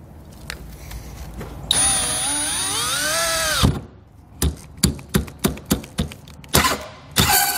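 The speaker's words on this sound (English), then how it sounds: "make sure there's nothing of importance under there before we start drilling" A power drill whines up and spins steadily for a couple of seconds while drilling a hole in the bed of a 2021 Ford F-250 Super Duty, then a series of sharp clattering bursts and short trigger pulls, close and loud.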